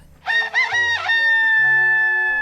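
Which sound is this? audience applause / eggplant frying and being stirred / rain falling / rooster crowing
rooster crowing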